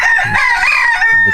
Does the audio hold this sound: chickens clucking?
yes